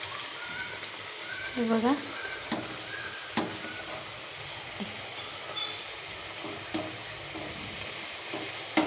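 Green pea puris fry in hot oil with a steady, close bubbling sizzle and occasional sharp crackles and clinks, while someone briefly speaks over it.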